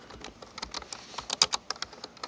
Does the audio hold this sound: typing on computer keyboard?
yes